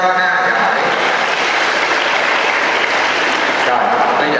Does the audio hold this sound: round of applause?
yes